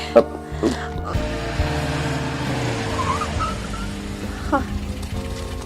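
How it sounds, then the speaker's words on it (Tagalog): A car driven by a father comes to a stop with engine rumble and a brief squeal of tires, fairly loud and close, while other sounds and possible voices mix in. "Tay kotse da Krista agayem ko tinagsardang iti batog ko"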